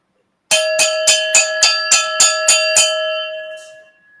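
A cowbell is struck about nine times at a steady, even pace, each hit bright and ringing with a sustained metallic tone, loud and close, the last strike decaying into silence.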